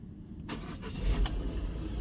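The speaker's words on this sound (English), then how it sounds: "And now the next step is to start the car." A Peugeot/Citroen car with a Delphi DCM7.1A engine control unit cranks and starts after half a second of quiet, then runs with a steady low engine rumble that swells briefly near the middle, close and alone.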